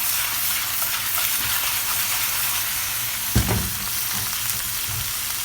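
Chicken thighs sizzle and fry in a pot for a one-pot dish, a steady loud crackle broken once by a sharp clunk as the meat is tossed.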